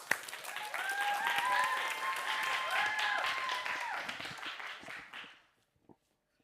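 Audience applause for actors entering a scene from A Midsummer Night's Dream on a live show, a burst of clapping with a few brief whistles, holding steady for several seconds before fading out.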